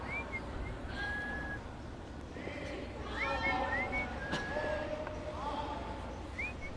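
A curler at a curling match whistles short, bright tonal notes and quick rising slides, scattered across the stretch, with background noise and some talk underneath.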